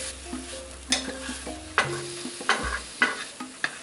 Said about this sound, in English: Now we just threw some more veggie or mushroom into that pan that we just cooked the tofu earlier